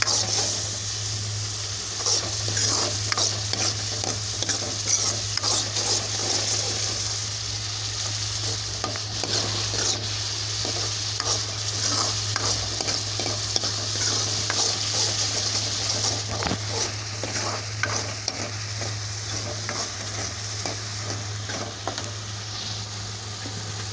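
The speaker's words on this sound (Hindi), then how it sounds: "हल्दी डालेंगे, मसाले को हम अच्छे से भून लेंगे जब तक वो तेल ना सूख जाए इसमें।" Turmeric and spices roast in oil for a pea curry, a continuous sizzle close up with dense stirring scrapes and a low steady hum underneath.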